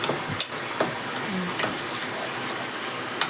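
Water poured into a pan of vegetables with okra and chilies as they cook, giving a steady, fairly quiet wash of hissing and sizzling with a few small splashes.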